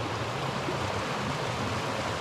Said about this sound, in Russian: Смотрите, какая река